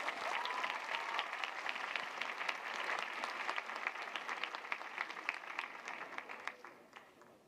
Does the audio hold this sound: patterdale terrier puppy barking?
no